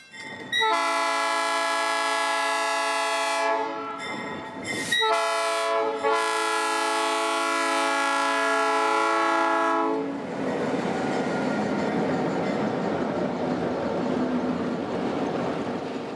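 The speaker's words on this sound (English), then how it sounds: "periodically echoing a close-by train horn, courtesy of the Florida Northern" A Florida Northern Railroad train sounds its horn close by, several long, loud chord blasts with short breaks, then the rumble and clatter of the passing train carries on with no horn.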